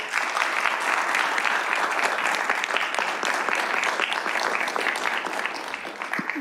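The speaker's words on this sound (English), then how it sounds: "Now, that deserves a round of applause." A legislative session audience at a government center gives a round of applause, a lively, sustained wash of many hands clapping at close range with crisp individual claps audible.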